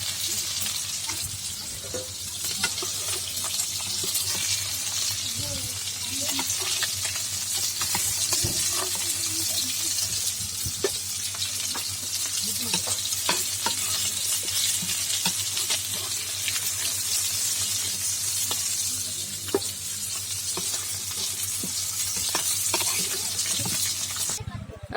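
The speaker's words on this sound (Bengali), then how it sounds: "আমাদের মাছ ভালোভাবে ভাজা হয়ে গেছে," Pieces of rohu fish frying in hot oil, a dense, steady sizzle with crackles and occasional stirring, close and continuous for the whole stretch.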